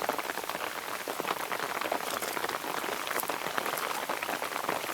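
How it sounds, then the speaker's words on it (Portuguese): Heavy rain pours down in a dense, steady hiss of drops striking surfaces, close and constant throughout with no talking. "Olha o barulho aqui, ó."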